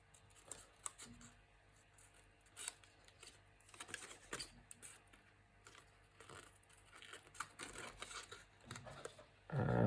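Scissors snip around a paper starfish for a pocketed Dutch fold card, with scattered quiet cuts and soft paper rustles, then a louder handling noise right at the end; no one speaks.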